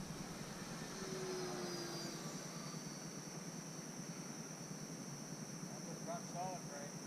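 An FMS P-40B Tomahawk RC warbler cruises at about 60% throttle, a faint, steady electric whine and airy drone heard from a distance, with brief voice sounds near the end.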